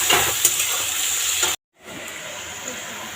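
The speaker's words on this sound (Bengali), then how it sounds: "পেঁয়াজটা লাল লাল করে ভেজে নেবো এবার" Onions fry in hot oil in a home kitchen, a steady close hiss and sizzle that cuts off abruptly partway and then resumes more softly.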